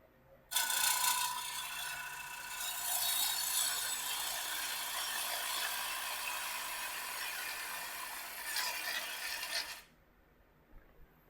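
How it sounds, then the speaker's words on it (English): A half-inch bowl gouge cuts a wooden bowl spinning on a lathe, giving a steady, close, rasping scrape that runs unbroken for about nine seconds before stopping abruptly. "I'm going to go to a 1/2 inch bowl gouge"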